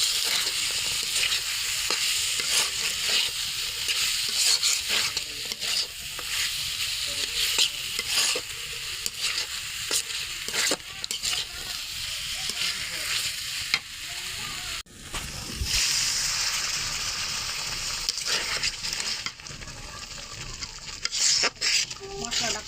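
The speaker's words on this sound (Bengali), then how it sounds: "মশলাটা কষা হয়ে গেছে আর সিমগুলো কষা হয়ে গেছে।" Spice paste and bean seeds stir-fried for a coral fish curry in a village kitchen: constant close sizzling under repeated scraping and clinking of a spoon against the pan, with brief pauses in the stirring.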